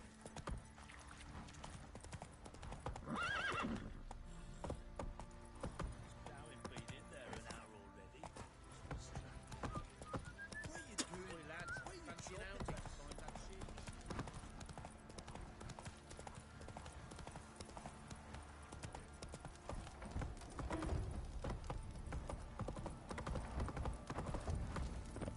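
A horse named Roach clip-clops along in a steady rhythmic hoof beat that runs throughout, close and clear, with a voice talking over the hooves at times.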